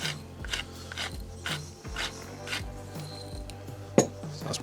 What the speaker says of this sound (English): a good grinding of pepper. Adjust it so it's a slightly coarser grind.